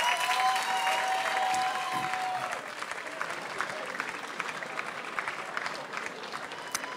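An outdoor Almedalen crowd applauding a party leader's speech in 2013, with clapping strongest at the start and then thinning and fading somewhat while continuing to the end.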